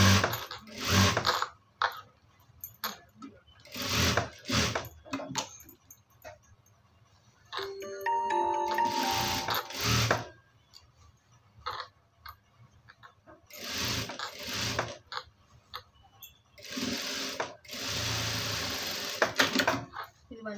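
A sewing machine stitches a garment sleeve in several bursts of rapid mechanical chatter, broken by pauses while a person talks over and between the runs.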